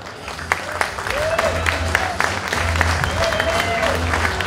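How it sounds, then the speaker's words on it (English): Applause at a hotel and casino awards ceremony, steady clapping from a crowd running throughout while a voice speaks over it. "I like to give a great applause for our hotel and casino manager, Selen Günay."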